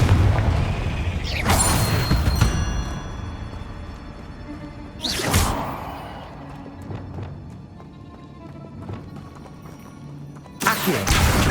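A Confringo explosion spell bursts in Hogwarts Legacy gameplay, loud booming blasts at the start, middle and end, each with a decaying rumble between them.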